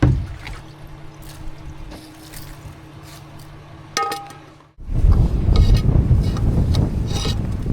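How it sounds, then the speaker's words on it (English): Strong wind gusting outdoors at the Kancamagus Highway, first a low rumbling buffet, then a sharp loud gust roaring across the mic after a brief lull. "There goes that wind again."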